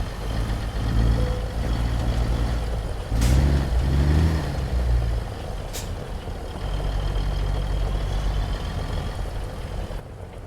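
A heavy Caterpillar 3406 diesel dump truck engine in American Truck Simulator drones steadily at a low, loud rumble, with a couple of sharp hissing bursts partway through and no voices.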